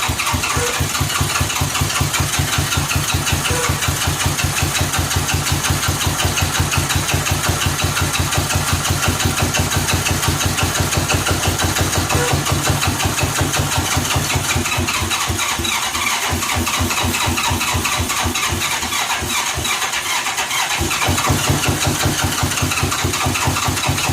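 A 1985 Honda Gold Wing GL1200 Aspencade motorcycle, a barn find left sitting 28 years, runs loud and close with a steady rapid engine pulse, settling into an even idle with a slight unevenness near the end.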